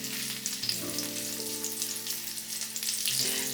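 Chorizo sizzling in oil in a pan, a steady close crackle and hiss with no voices over it.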